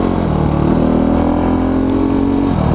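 A supermoto motorcycle on supermoto wheels and tires riding through soft dirt, its engine droning loud and steady throughout at a constant pitch, close to the listener.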